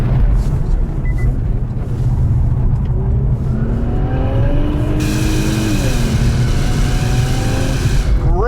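A car engine drones steadily while driving, either a 2021 BMW 430i or an Infiniti Q60 Red Sport, with rising tones as it accelerates through gears under constant road and cabin noise.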